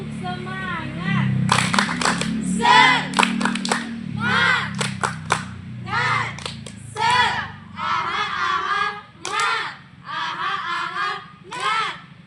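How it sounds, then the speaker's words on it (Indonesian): Children doing a spirit clap outdoors at a school lesson, with bursts of rhythmic group clapping and loud shouted chants from many young voices, a steady crowd murmur underneath. "Kita mulai. Tepuk semangat."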